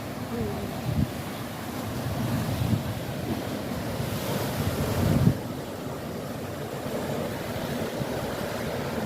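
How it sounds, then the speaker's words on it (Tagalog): Strong ocean waves roll onto a beach in Hong Kong, with a steady roar of surf and wind buffeting the microphone, a louder wash surging midway before settling back into a constant wall of noise. "Ang lakas ng alon niyo, no?"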